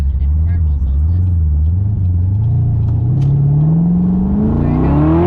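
LS3 V8 engine in a Pontiac Solstice convertible accelerating on a street, a loud close rumble that climbs steadily in pitch as the revs build, with faint talk underneath.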